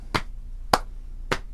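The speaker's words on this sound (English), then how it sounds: "knees and clap." Hands give three sharp, evenly spaced slaps or claps roughly half a second apart in a quiet indoor room, the middle one loudest, with a soft knee pat just before each.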